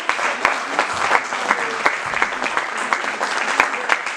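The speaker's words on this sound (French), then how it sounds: "on les applaudit encore une fois" An audience in Saint-Pierre applauds the musicians with brisk, sustained clapping at a steady density. A few voices rise faintly beneath the clapping.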